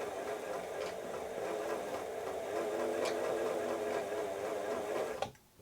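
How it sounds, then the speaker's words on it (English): A Singer 247 sewing machine running with a cracked cam stack gear, giving a steady mechanical whir with occasional clonks, close by, before it stops abruptly near the end; no talking. "clonking noise is part of the problem caused by this cam stack gear cracking there"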